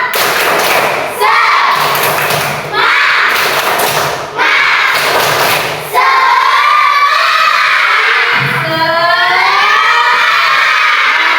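Primary schoolchildren in a classroom performing a rhythmic clapping chant, loud bursts of group claps and shouted voices repeating in phrases, with sharp thuds separating sections and the chanting voices rising and falling.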